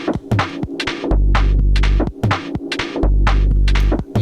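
A deep, droning synth bass on a Maschine Jam throbs in long sustained notes, alternating with punchy hits and bright percussive ticks in a steady loop.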